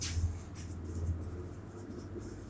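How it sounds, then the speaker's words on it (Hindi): Chalk or marker writing on a board, with faint scratchy strokes set against a low background rumble and no voices. "इस बात को मैं लिखता हूं"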